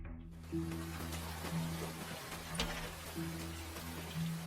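Steady rain hisses continuously outside a roadside motel at night, with low tonal hums underneath, the downpour filling the background at a fairly soft level.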